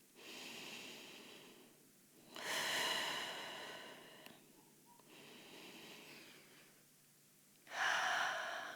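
During a rest in child's pose in a yoga-style shoulder stability class, deep breaths come close and soft, with three long airy inhale-exhale swells and quiet pauses between them.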